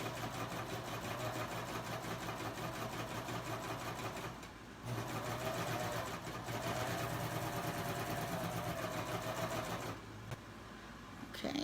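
A Babylock serger runs steadily with a fast mechanical stitching hum, pausing briefly twice before starting up again, close and clear with no talking.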